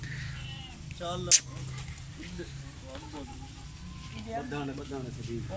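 A goat bleats in a livestock sale setting, a few wavering calls rising over steady close-up talk, with a brief sharp hiss-like burst near the start.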